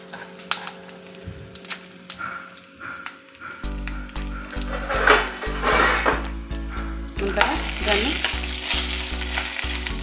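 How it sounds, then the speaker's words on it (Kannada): Curry leaves and fifteen to twenty dried red chillies hit hot oil for horse gram saaru, bursting into a loud, crackling sizzle, with close clatters and scrapes of a spoon stirring the pan. "ಚೆನ್ನಾಗಿ ಫ್ರೈ ಮಾಡಬೇಕು"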